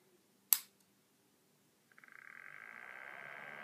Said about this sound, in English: So I'll turn this one on. It runs off of a 12-volt adapter, since it's a 12-volt computer fan.